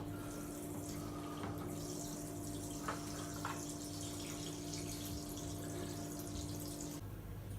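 Liquid trickles steadily through a homebrew siphon hose from one container into another during a homebrew kit transfer, a constant soft flowing hiss with a low hum beneath it and a few faint clicks.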